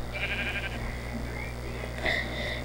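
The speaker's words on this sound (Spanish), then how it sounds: "Y también matemos ovejas para hacer una cama, para pasarnos la noche." Sheep bleating in the video game Minecraft, two short synthetic bleats, one near the start and another about two seconds in, over a steady low background hum.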